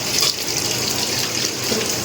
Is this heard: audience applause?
no